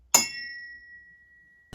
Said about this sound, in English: We have me hitting the leg on my whirly,